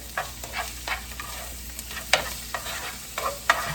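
Garlic and canned mushrooms being stirred in a hot pan for a gluten-free sausage and rice casserole, a steady run of spoon scrapes and shuffles over a soft sizzle, close and moderately loud with no talk.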